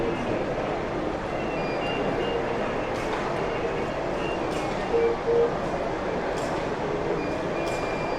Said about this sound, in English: and complete with its own underground train